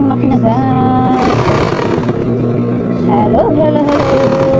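A sewing machine runs while stitching a curtain, its motor giving a loud, steady droning whine with a few shifting tones across the whole stretch.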